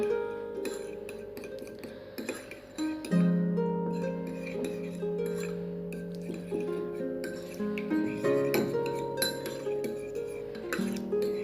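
A spoon stirs a bowl of sauce ingredients with a little vinegar for Chinese-style noodles. Close, bright clinks and scrapes against the bowl ring out in an irregular rhythm, with no talk.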